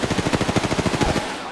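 Rapid automatic gunfire from Apex Legends: a close, loud burst of about fifteen quick shots that stops after just over a second and leaves a short fading tail.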